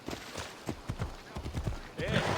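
Horse hooves clip-clop in a quick rhythm in Assassin's Creed Odyssey, close and fairly loud, with a rider's voice and game dialogue speaking over them.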